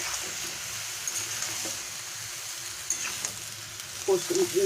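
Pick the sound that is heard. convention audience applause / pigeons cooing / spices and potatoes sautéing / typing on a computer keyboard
spices and potatoes sautéing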